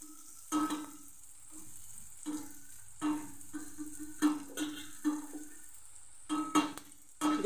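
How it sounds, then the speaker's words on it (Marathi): Palak methi moong dal vadis go one by one into hot oil in a pan, each bringing a fresh burst of sizzling over a low steady bubbling hum, with occasional light clinks. "पॅन मध्ये मी तेल टाकलं आहे, एक एक करून आपल्याला फ्राय करायचं आहे।"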